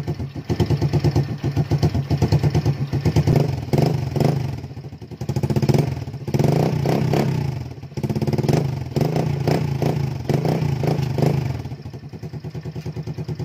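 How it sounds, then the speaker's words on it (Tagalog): A freshly serviced motorcycle engine idles steadily with a rapid, even putter and mechanical clatter, close by, with slight swells in loudness and no talking. "So silent pa yung makina natin."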